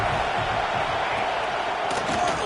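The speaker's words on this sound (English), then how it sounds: "this crowd trying to help keep them there" Steady roar of a college football stadium crowd in a video game, a dense, constant wall of noise under a commentator's voice with a few brief sharper bursts near the end.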